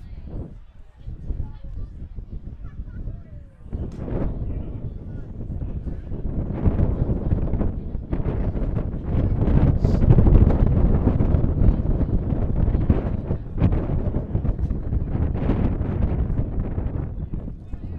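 Wind buffets the microphone over an outdoor field during a US Quidditch Cup match, giving a rumbling, gusty roar that swells in the middle. Steady sports commentary runs over it almost throughout.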